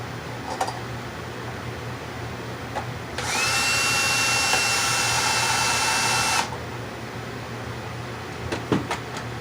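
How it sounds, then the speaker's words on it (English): A screw gun whirs for about three seconds driving a screw into an electrical outlet box, a steady close motor whine with quiet handling clicks before and after. "So with the screw gun, I'll screw it in right down close to being tight."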